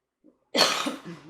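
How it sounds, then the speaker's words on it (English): A single close, harsh cough bursts out after a faint throat noise, followed by a rougher, trailing second expulsion, in a quiet room during a tarot card reading. "I don't want to be coughing through this"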